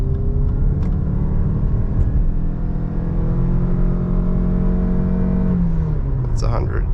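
A 2023 Lexus RX SUV accelerating hard in sport mode onto a highway, heard from inside as a steady engine roar that rises in pitch, eases off near the end, and ends with brief sounds in the cabin.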